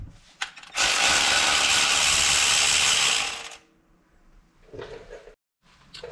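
A ratchet undoes a T30 Torx screw holding the coil pack on a 991.1 Porsche 911, a loud rapid clicking burst of nearly three seconds followed by softer tool handling clinks and pauses.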